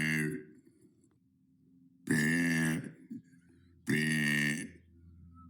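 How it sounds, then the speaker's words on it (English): Three loud, long burps rumble out one after another, the first brief, the next two swelling and stretching close to the mic, with quiet gaps between them. "That was day 96 of burping for 100 days."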